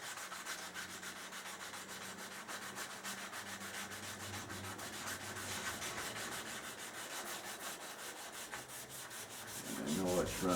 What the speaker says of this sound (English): little tiny block here and 500 grit, and I'm going to just try to sand right on top of that run.